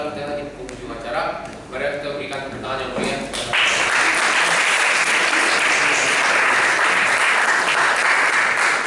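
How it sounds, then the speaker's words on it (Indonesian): A voice speaks briefly before an audience breaks into applause at the close of a presentation event on making and testing biodegradable plastic. The clapping comes in suddenly, loud and steady, and fills the rest of the clip. "Mari kita berikan tepuk tangan yang meriah."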